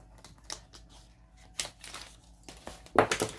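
Scissors snip and crinkle through the plastic wrapping around a planner at a desk, producing several short, close crackling cuts spread unevenly, with the loudest burst near the end.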